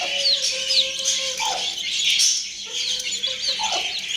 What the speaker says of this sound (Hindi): आज तो मुर्गी कुक कुक की आवाज़ भी निकाल रही है।